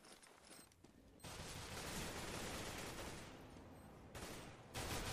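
Rapid automatic AK rifle fire in a competitive first-person shooter match during a bomb round, dense sustained bursts with short pauses, fairly close and loud, no talk over it.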